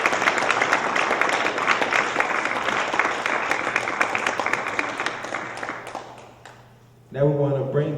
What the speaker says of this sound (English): Let's give her a round of applause and bring her to the stage.